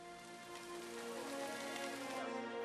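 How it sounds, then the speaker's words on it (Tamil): Steady tropical rain falls without pause, a soft, even patter of drops on surfaces that fills the whole stretch at a low, constant level. "அங்கே வெப்பமண்டல மழை விடாமல் பெய்து கொண்டிருந்தது."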